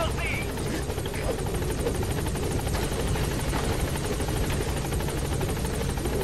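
Helicopter in MGS V: The Phantom Pain, a steady rotor drone with rhythmic chopping throughout, loud and continuous.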